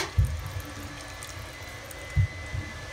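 A thin stream of water trickles from a faucet in a house with a frozen water heater, giving a faint steady hiss broken by a couple of soft low thumps.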